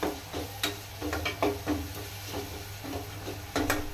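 Vegetables, broad beans and brinjal, sauté with asafoetida in a pan: a soft, steady sizzle broken by sharp scrapes and clicks as a spoon stirs, close by with no talking.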